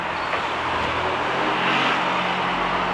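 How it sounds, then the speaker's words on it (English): Cars and small buses pass along a street near a hotel in Greece, a continuous close road rumble with rising hiss as vehicles go by, with no voices. "all the little buses that are passing by."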